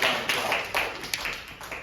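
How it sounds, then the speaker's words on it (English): Brief, thin applause from a small audience, with a few distinct clap-like taps standing out at an irregular rhythm over a short stretch. "Give yourselves a round of applause for that."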